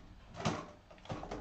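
A stuck drawer is tugged open with two short, faint scraping knocks, quiet and close, with no talking over it.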